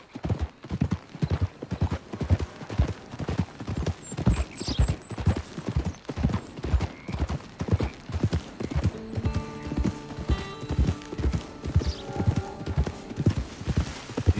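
Horse hooves clip-clop in a steady, even trot in Red Dead Redemption 2, close and continuous throughout, with faint game ambience and brief tonal sounds in the background.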